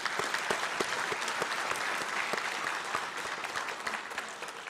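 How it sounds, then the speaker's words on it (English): An audience at a winter commencement ceremony gives a sustained round of applause, dense, continuous clapping filling the hall throughout without a break. "Round of applause for those folks."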